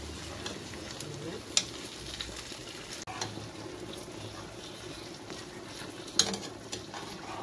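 Chicken breasts sizzle softly in a pan on a gas stove as they are flipped, a steady low hiss broken by two sharp clicks from the turning.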